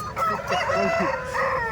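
A rooster crows loudly and close at a country chicken market selling native-breed birds in Kundarapalli, its long harmonic call running throughout, with clucking and crowd chatter beneath.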